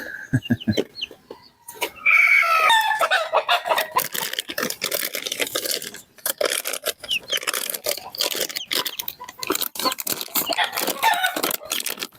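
Chickens clucking with a chick peeping among them, near and busy, irregular bursts of clucks and cheeps throughout.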